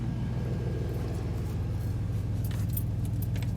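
A 2002 Chevy Silverado truck idling with a steady low engine rumble while keys jangle near the ignition as it is switched off, no talking.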